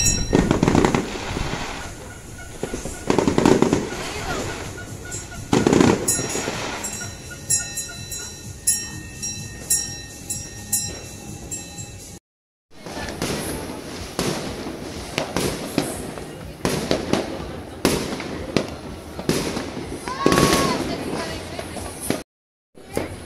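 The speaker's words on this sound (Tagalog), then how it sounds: "Parang paubos na ang paputok ko." New Year 2021 fireworks and firecrackers going off: sharp cracks and booms in irregular bursts, with fizzing, whistling stretches between and two brief silent gaps, set against a few voices.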